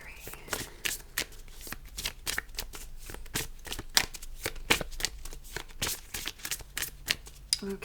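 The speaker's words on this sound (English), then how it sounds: "Okay, so I've shuffled the cards." Tarot cards being shuffled by hand, a rapid series of crisp riffling and flicking bursts repeating close up, fairly quiet and without talk.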